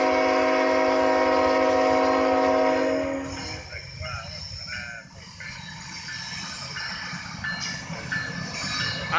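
A CSX freight train rolls into Hamlet, its horn blaring loudly at first, then giving way to rumbling, clanking wheels and cars passing at moderate distance.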